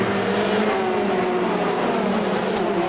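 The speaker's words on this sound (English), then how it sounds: "Listen to the sound of those engines." Race car engines in a video game roar continuously at a high, steady pitch, a dense racing drone with no pauses.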